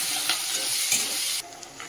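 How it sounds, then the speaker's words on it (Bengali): Chopped onion sizzles in hot oil with whole spices, a close, continuous hiss broken by a couple of quick stirring scrapes before the frying drops to a softer sizzle. "পেঁয়াজটা দিয়ে দিচ্ছি। তাহলে পেঁয়াজটা একটু ভাজা হোক"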